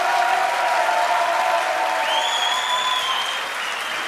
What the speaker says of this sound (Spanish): ¡Aplauso para Eulogio, que es un grande!